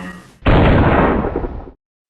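A loud cartoon explosion effect booms in suddenly, holds as a dense roaring blast for over a second, then cuts off sharply into silence.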